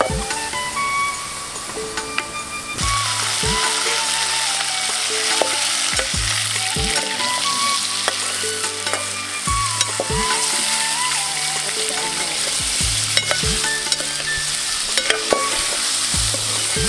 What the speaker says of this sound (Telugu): అదే గిన్నెలో చికెన్ వేసుకొని ఒక 5 నిమిషాల పాటు వేయించుకోవాలి.